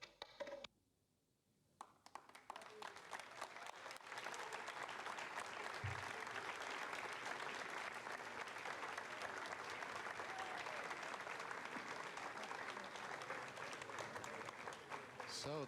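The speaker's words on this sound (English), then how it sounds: "you can hear the applause" A launch team in Jupiter breaks into long, sustained applause and cheering after an Ariane 5 spacecraft separation, a dense clapping wash following a brief quiet gap, with a voice heard faintly beneath.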